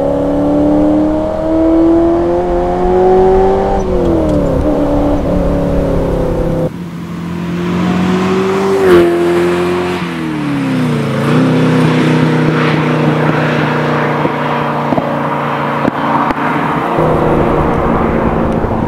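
A Ferrari engine revs repeatedly past about 5,000 rpm, its tone climbing and dropping in smooth sweeps, loud and close with a steady growl between pulls.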